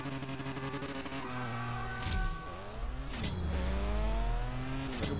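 A Pagani supercar in the mobile racing game CSR Racing 2 accelerates hard, its engine whining upward through several rising gear pulls, with a gear shift between them, loud and continuous with no talking.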